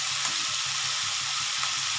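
Bombay duck (lote fish) frying in hot oil with black cumin, a continuous bright sizzle with soft bubbling pops and faint stirring, close and steady with no voices.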